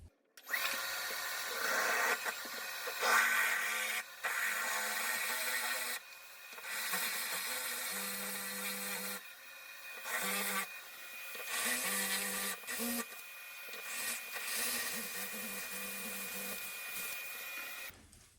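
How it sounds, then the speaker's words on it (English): A power drill grinding into a shower wall to mount a grab bar, in uneven, long bursts with brief pauses, raspy and close, over a constant faint background hum. "Now I'm going to go ahead and drill this one."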